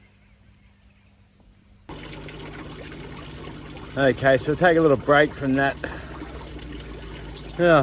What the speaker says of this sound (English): the sound of the running water in the aquaponics